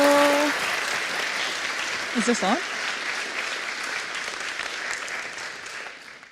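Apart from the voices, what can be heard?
audience applause for the speaker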